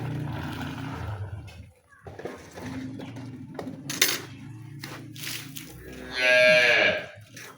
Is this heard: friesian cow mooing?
yes